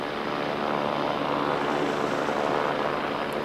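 A helicopter flies to an offshore lighthouse, its engine and rotors producing a loud, continuous roaring drone with a broad rushing wash that stays steady and close.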